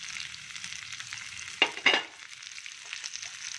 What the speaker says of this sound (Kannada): ಇದು ಸ್ವಲ್ಪ ಚಟಪಟ ಅಂತ ಸಿಡಿಲಿ.